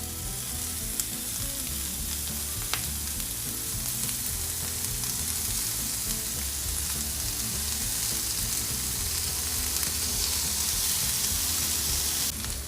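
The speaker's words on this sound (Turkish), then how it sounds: "Yağsız tavada bir gece önceden hazırladığım etlerimi pişireceğim" Meat for Iskender kebab sears in a dry, oil-free pan, giving a steady, loud, close sizzle that runs unbroken throughout, with a few faint utensil clicks and no talking.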